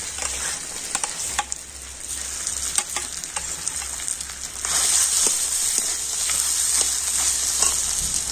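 Boiled, hand-mashed potatoes drop into a pan of sizzling cumin and coriander, giving a steady loud frying hiss with stirring scrapes and small crackles that swell louder midway.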